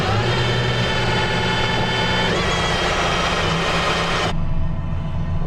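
The Aston Martin Valkyrie's engine revs at a drag race gathering, a loud, sustained, high-pitched roar that holds steady for several seconds and then drops off sharply near the end, with no talk over it.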